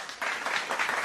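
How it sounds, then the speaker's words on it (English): Steady clapping from a group, a dense patter of hands that swells slightly after a brief quieter start. "Round of applause."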